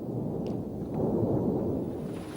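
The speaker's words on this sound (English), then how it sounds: "After 20 minutes, the massive series of explosions grew to a climax." A continuous deep rumbling roar of a massive series of explosions near a Soviet base in Afghanistan, merging together, swells slightly and stays steady throughout.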